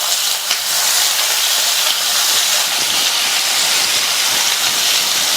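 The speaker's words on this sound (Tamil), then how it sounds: "இதுல கட் பண்ணி வச்ச வாழைக்காயை சேர்த்துக்கலாம்" Raw plantain pieces dropped into hot oil in a pan for a South Indian plantain curry, giving a loud, steady, dense sizzle and hiss that holds unbroken for several seconds with no voices.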